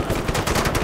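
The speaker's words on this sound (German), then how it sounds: "Wetten, die Kanone funktioniert noch?" A vehicle-mounted cannon in Just Cause 3 hammers out a quick, loud burst of repeated shots, close and without any talk over it.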